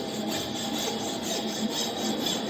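Freshly cut end of a wooden mortise piece smoothed by hand in a carpentry shop, a steady rasping rub with regular repeated strokes, close and fairly loud with no talk.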